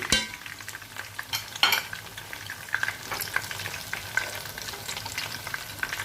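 Cauliflower florets fry and brown in a pan of tajine, a steady close sizzle broken by scattered crackles and the clatter of stirring, with no voices.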